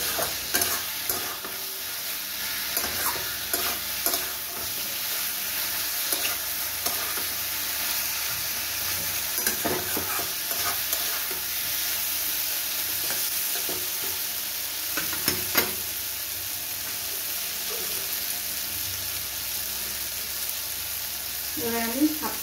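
Fish stirred and frying in a pan of oil over a medium gas flame, a steady dense sizzle with scraping stirs and clinks throughout, close and continuous with no voices.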